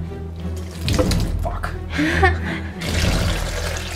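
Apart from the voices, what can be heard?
pouring water into mass gainer powder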